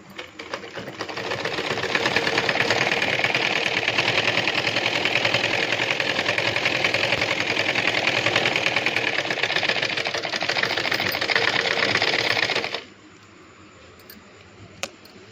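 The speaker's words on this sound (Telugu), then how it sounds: "బాగు చేసిన తర్వాత కుట్టు ఎలా వస్తుందో మీకు చూపిస్తాను" A home sewing machine stitching after repair and oiling, a loud, even mechanical whir running steadily for about twelve seconds before stopping abruptly, leaving quiet background with a faint click.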